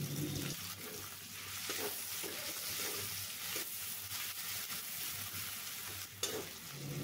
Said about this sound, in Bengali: আর ওই তেলেই কালো জিরে আর কেটে রাখা পেঁয়াজ দিয়ে দিচ্ছি